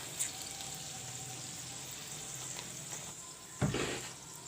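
Bay leaves fry in hot mustard oil with a soft, continuous sizzling hiss heard close but at low level. One brief louder burst of spatter comes near the end.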